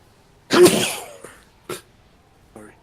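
One sudden, sharp sneeze bursts out close by, followed by two short, quieter breathy sounds, with silence between them.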